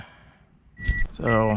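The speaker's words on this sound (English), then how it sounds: "goodness, it's annoying beeping, because there's a door open." A high electronic door-open warning beep from a 2002 Toyota RAV4 sounds through a man's speech, a steady tone that stops briefly and then returns.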